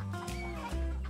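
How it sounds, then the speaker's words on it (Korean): Chicks give a short run of close, high, tonal peeps and cheeps, with no talking over them. "병아리 소리 예쁘네"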